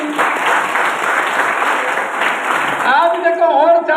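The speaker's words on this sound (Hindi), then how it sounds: "उनके लिए ताली होना चाहिए।" An indoor audience at a Safe Shop leadership training event claps steadily for a partner introduced on stage, a dense round of applause that gives way near the end to someone speaking over a microphone.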